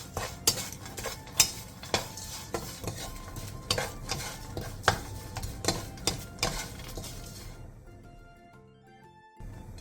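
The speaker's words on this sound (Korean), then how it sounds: "마른 팬에 깐멸치 3분의 2컵을 넣은 뒤 센 불에서 3, 4분간 볶고" Peeled dried anchovies are stir-fried over high heat in a dry pan with a utensil: repeated scraping and clinking strokes against the pan over a soft sizzle, close and steady, easing off toward the end.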